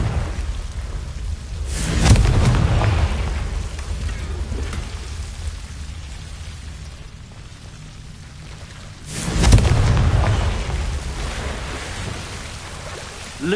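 A Confringo explosion spell in a Harry Potter video game, heard as two heavy, rumbling blasts several seconds apart, each swelling and then fading into a low rushing ambience, with no talk.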